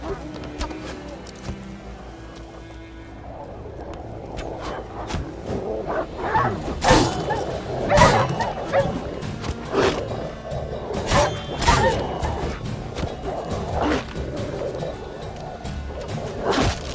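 Aggressive wild beasts in The Witcher 3: Wild Hunt snarl and roar in a close fight, with sharp whooshing strikes and impacts recurring over busy combat and background music.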